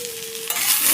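Grated coconut with a little salt is stirred in a hot pan, a spoon scraping through the mix over a sizzle that swells into a loud, steady fry after a brief tone at the start.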